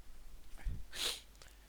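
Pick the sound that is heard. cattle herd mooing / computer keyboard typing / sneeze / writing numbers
sneeze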